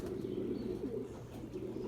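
Pigeons coo softly in a low, steady murmur, a flock's continuous rolling burble with faint chirps above it and no voices.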